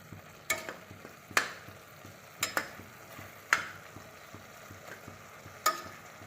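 Masala for homemade biryani sizzles and fries in a pan while a spoon scrapes and stirs it in repeated sharp strokes, a steady close sizzle between the clanks, with no talking.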